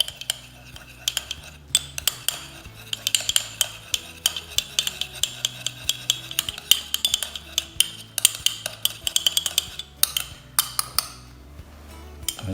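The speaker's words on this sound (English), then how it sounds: "I'm just going to mix the two of those together, the wasabi and the soy sauce." A spoon stirs wasabi into soy sauce in a small dish while preparing sushi, with steady close scraping and clinking of metal against ceramic, repeated in a busy rhythm throughout.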